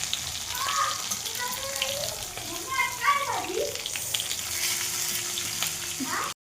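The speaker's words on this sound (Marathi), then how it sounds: "वाफत ठेवून द्यायचं, असं छान होतं वाफवून." Stuffed green chillies (bharli mirchi), topped with leftover masala, steam and sizzle in a pan with a steady soft hiss, while someone talks over it throughout.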